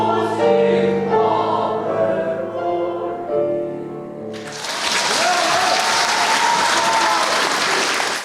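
Audience at an anniversary concert of music-school teachers and students breaks into loud, sustained applause with cheering and shouts, rising abruptly after the fading final chord of a vocal quartet.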